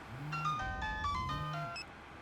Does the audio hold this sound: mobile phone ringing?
yes